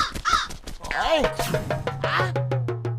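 A crow caws loudly a few times close by, the harsh calls mixed with people talking over them.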